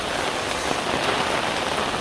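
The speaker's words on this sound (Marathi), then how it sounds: "त्यामुळे डहाणूमध्ये खूपच पाऊस आहे" Heavy monsoon rain pouring steadily in Dahanu, a dense, even hiss of drops hitting surfaces with no pauses, close and loud throughout.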